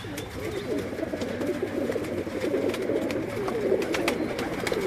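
Kasuri pigeons cooing on a rooftop, a dense, continuous chorus of soft low coos from several birds close by, with no talking.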